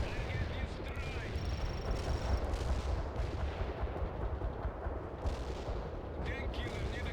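Artillery fire mission in the World in Conflict strategy game: a continuous rumbling barrage of low booms and distant gunfire rolling through the whole stretch, with faint radio-style game voices in the background.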